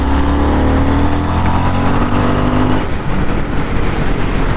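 A 2023 Harley-Davidson Sportster S with a 1250cc engine pulls hard in fourth gear, its loud, close engine drone rising steadily in pitch before settling into a rougher roar.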